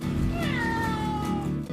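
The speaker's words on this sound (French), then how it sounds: "il s'est remis à miauler tout de suite après." A domestic cat gives a drawn-out, wavering meow close by, one sustained call lasting almost two seconds with a slight upward bend before fading.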